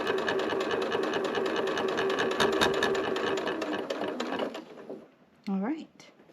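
A sewing machine set to a 2.4 stitch length runs steadily while stitching a small zipper bag, a fast even mechanical whir for about four and a half seconds before it slows and stops. A brief voice follows.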